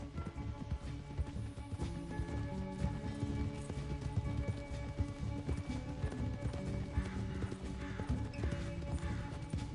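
Horse hooves clip-clop at a steady running pace in the Red Dead Redemption II video game, mixed under a dense bed of game music and ambience with no talking.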